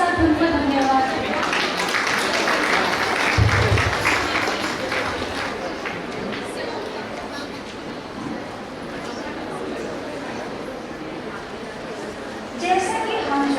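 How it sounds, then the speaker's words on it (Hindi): A stage programme crowd at a religious first-profession ceremony claps in a dense burst that gradually thins out, while a voice speaks over it. "तो आइए जोरदार तालियों के साथ उनको धन्यवाद दें।"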